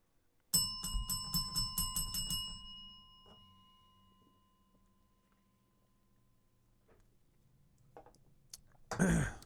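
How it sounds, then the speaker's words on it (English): A bell struck about six or seven times in quick succession at a tavern-style gaming show, bright ringing strikes with a lingering tone that fades over a couple of seconds, followed by near-silence and a brief noisy burst at the end. "let's hit the bell like 4"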